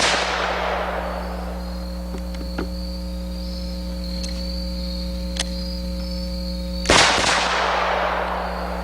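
Gunshots from a Smith & Wesson 460 Rowland handgun, one loud blast ringing out at the start and another near the end, with a steady hum and faint sharp ticks in between.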